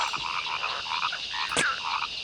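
A frog croaks in the 1996 computer game Amazon Trail II. Several short, throaty croaks repeat at a loose rhythm over a faint steady background, with one sharp click partway through and no voices.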